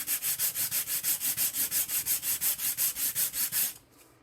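Wood being sanded by hand with 220 grit sandpaper for a campaign watch box, about eighteen even back-and-forth rasping strokes in a fast steady rhythm, close and clear, stopping abruptly near the end.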